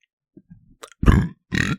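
A person lets out a few burps in quick succession, a small grunt-like sound followed by two loud, close, guttural belches.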